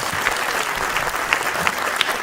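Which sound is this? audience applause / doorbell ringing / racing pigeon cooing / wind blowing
audience applause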